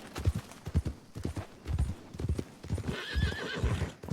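A horse in the Western role-play game RedM clip-clops at a steady walking rhythm, hooves thudding close by, and lets out a brief whinny partway through; no talking.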